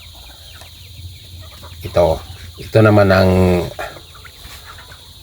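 Chickens cluck close by while a person speaks briefly. A louder, drawn-out squawk stands out over a low background hum.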